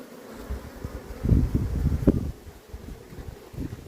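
Bees buzz close by at a chestnut-honey hive in Kapıdağ, Turkey, in a low, fluttering drone that swells and fades, with some wind rumble on the microphone.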